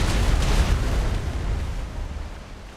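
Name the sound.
ship cannon volley firing from starboard side in a video game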